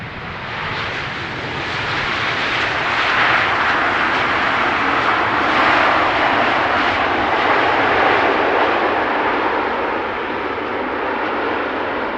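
A Boeing 777 airliner landing on runway 18R at Amsterdam Schiphol, a steady loud broadband engine roar that builds and holds for several seconds, then eases slightly, with no voices.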